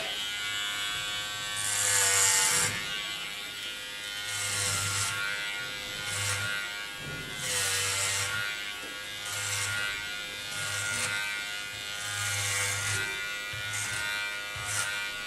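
Electric hair clippers buzz steadily through a short pixie clipper cut, a close, continuous whine that rises and dips rhythmically as the blades pass over the head.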